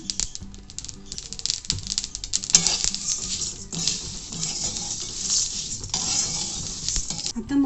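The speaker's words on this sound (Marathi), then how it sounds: "मसाले व्यवस्थित भाजलेला आहे" Masala spices being dry-roasted and stirred in a pan for a Solapur-style spicy masala, giving a steady scraping, rattling stir with faint sizzle, loud and continuous with occasional sharper clatters.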